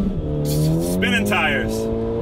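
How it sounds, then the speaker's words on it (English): A Ford Focus ST launching at a drag strip with its tires spinning: a loud, close engine drone with rising whining tones and squealing bursts that run throughout. "tires, non-stop tire spinning."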